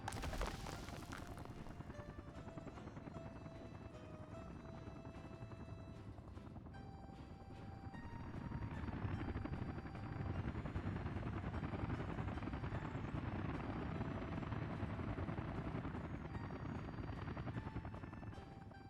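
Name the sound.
helicopter in video game Workers & Resources: Soviet Republic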